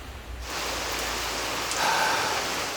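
Rain pours steadily on a gazebo, a dense, even hiss that swells in after a brief quieter start and holds without break.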